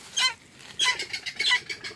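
Red junglefowl hen caught in a snare squawks in three loud, harsh bursts, the first short and the next two longer and more ragged, with brief quiet gaps between them.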